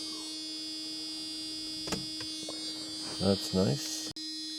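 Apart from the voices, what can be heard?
warning buzzer in Mercedes W124 500E car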